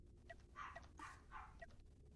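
A small dog barking indoors: several short, sharp yaps in a quick cluster, faint and somewhat distant, with no talking over them.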